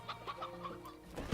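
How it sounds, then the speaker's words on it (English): Chickens clucking in the video game Slime Rancher, a string of short, evenly spaced soft clucks at a gentle rhythm, faint and close, with no talk over them. "Chickens."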